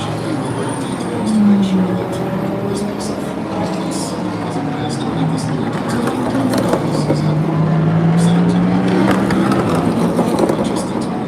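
Porsches, Aston Martins, Ferraris and Lamborghinis racing on a track, a steady roar of engines with passing whines rising and falling, under continuous crowd chatter and nearby talking.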